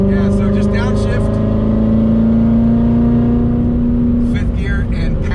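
A C7 Corvette Grand Sport V8 accelerating hard after a downshift, a loud sustained drone rising steadily in pitch, close and continuous for several seconds with a voice talking over it.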